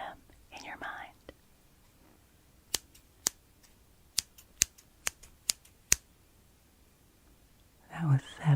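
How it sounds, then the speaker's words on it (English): Scissors snipping close up, about ten sharp crisp cuts spaced irregularly, with soft whispering before and after. "Listen for the snipping sounds and count them in your mind."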